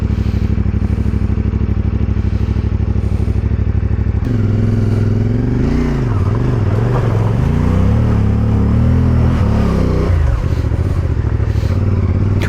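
CF Moto 450MT motorcycle riding through muddy lanes, its engine droning loudly and steadily throughout, with revs rising and falling and a shift in tone partway through as the bike works through the mud, close and with no talk.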